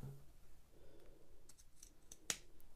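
A single sharp snip of sewing scissors cutting fabric at a pocket and side seam, brief and close against quiet room tone.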